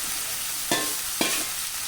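Ginger pieces sizzle steadily in hot oil for a Kerala ginger curry, with two brief stirring scrapes breaking the constant frying hiss, close and alone.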